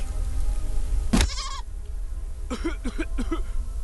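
Goat bleating from the video game Deponia Doomsday: a sharp hit, then a short wavering bleat, followed by three or four quick bleats in a row, close and clear over a steady background hum.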